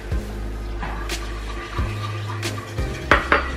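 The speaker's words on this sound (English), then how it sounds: "So I try to whisk it a little bit" A whisk breaking up lumps of cornstarch in a small bowl before it goes into a pan for a bread pudding vanilla cream sauce, giving a few quick, close metallic clinks and scrapes in irregular bursts.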